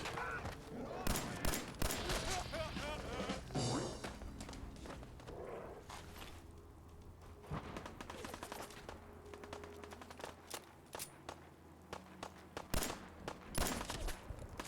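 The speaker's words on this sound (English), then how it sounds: "Oops, I'm being shot at now." Combat gunfire in the video game Fallout 4: rapid bursts and scattered sharp shots, moderately loud, with footsteps and some quieter gaps between volleys.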